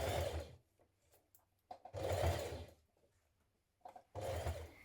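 A sewing machine bastes gathered fabric onto a frill dress in three separate loud bursts of whirring stitching, with quiet pauses between them.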